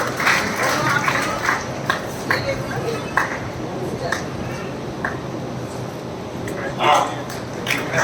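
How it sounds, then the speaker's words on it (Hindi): Audience applause at an official Hathras ceremony where mementos are presented, heard as a steady, dense patter of clapping filling the room, with a few louder swells and a voice in the background. "जोरदार तालियां बजते रहेंगे"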